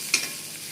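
Onions sizzling in oil in a hand-held kadhai as they are stirred, with a quick scraping stroke near the start and then a soft steady hiss.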